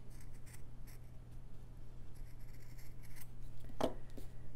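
Scissors snip through folded quilt batting to cut a heart shape, quiet intermittent crisp cuts against a low steady hum, with one sharper snip near the end.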